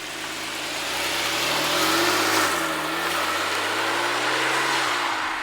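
A Porsche 997 Carrera GTS flat-six engine pulls steadily while driving, its loud close drone rising and easing as revs climb and settle through gear changes, with no voices.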